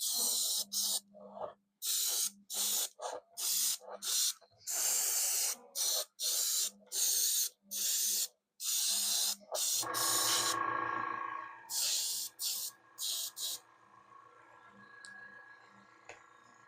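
Spray paint coating a 3D-printed ghost figure: a rapid series of short, loud hissing bursts with brief gaps, then quieter, softer hissing toward the end.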